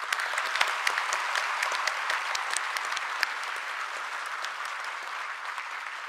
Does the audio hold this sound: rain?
no